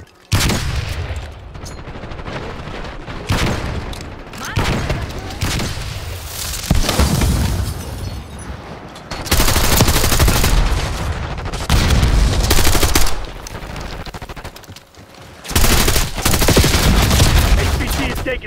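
Rapid gunfire bursts and booming explosions from online multiplayer combat in Call of Duty Black Ops 6, loud and dense, arriving in repeated volleys for the whole stretch with brief lulls between them.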